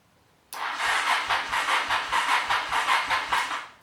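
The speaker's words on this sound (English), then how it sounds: "You see it cranks." A 1985 Honda Shadow motorcycle engine cranks without firing, the starter churning in a steady, even rhythm of about a dozen pulses after starting abruptly, close and fairly loud.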